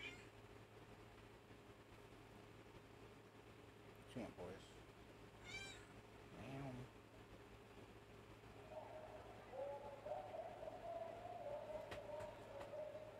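A cat meows in a few short calls amid background voices and a steady hum, followed by a longer rising tonal call near the end, all at moderate distance.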